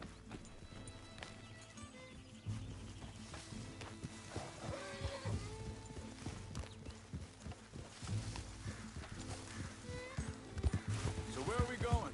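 Steady horse hooves clip-clop at a walking pace beneath people talking in Red Dead Redemption 2, with some background movement noise.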